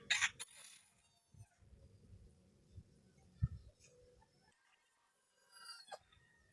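A rooster at a gamefarm crows and clucks, a close, loud crow at the start with a further crow near the end, separated by quieter low clucking and rustling farmyard sounds.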